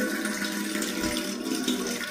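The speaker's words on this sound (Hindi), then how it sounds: "अब इसमें देखते हैं पानी भरते हैं" Tap water running steadily into a container in a home, filling it for a bath; a continuous close rushing splash with no talking.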